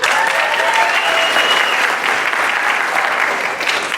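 Steady, dense applause from a large crowd at a high school senior awards ceremony, loud and sustained throughout with no pause.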